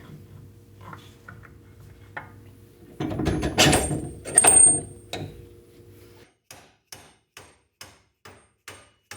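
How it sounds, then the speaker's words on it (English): A nut is worked loose on a car hub assembly of a Heidts chassis, with close metallic clanks and rattling tool noise, followed by a steady series of sharp, evenly spaced taps. "Unscrew this nut here."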